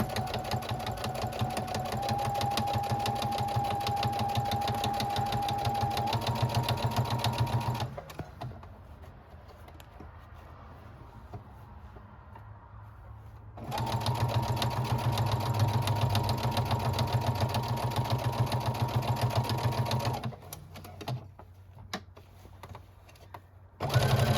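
Sewing machine stitching a quilted purse, a steady fast mechanical whir in two long runs separated by a quieter pause, with a short burst at the end.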